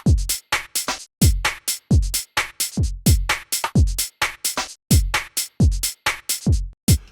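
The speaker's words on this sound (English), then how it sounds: "this is what the drums sound like." A UK garage drum loop programmed in Ableton Live plays alone, with punchy kicks and crisp hats and snares in a tight, swinging, shuffled groove that repeats steadily and loudly.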